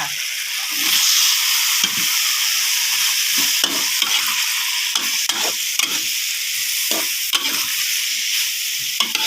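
Vegetables stir-fry in a hot pan for Thai basil shrimp, producing a loud continuous sizzle broken by frequent rhythmic scrapes and knocks of the spatula, with no voices.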